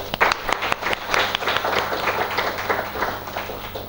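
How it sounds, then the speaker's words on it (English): Audience at a cyber defense conference applauding dignitaries on the dais, a brief burst of many hands clapping, moderately loud and fairly close, steady for a few seconds before thinning slightly. "May I request all the participants to kindly welcome our dignitaries on the dais with huge round of applause."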